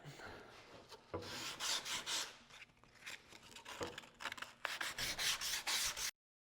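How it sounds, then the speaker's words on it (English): Steady rasping and rubbing of sandpaper against wooden van kitchen parts, continuous with short pauses and bursts of scratchy strokes, close up. "Now that we've finished sanding"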